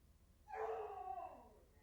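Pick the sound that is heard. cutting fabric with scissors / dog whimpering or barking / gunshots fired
dog whimpering or barking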